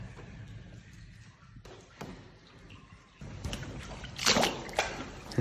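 Footsteps slosh and splash through standing water inside a flooded tunnel of an abandoned military underground power station, soft and echoing at first, then louder, closer splashes in irregular steps.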